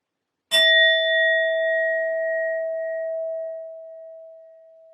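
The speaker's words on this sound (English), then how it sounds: "I will be using my sound bowl to clear it and set the energy as always" A singing bowl is struck once, giving a loud, clear ringing tone with bright overtones that sustains and slowly fades over several seconds with no talking.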